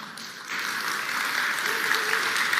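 Audience at a POCO F7 series smartphone launch event breaks into applause after a short lull, a steady, somewhat distant wash of crowd clapping that continues to the end.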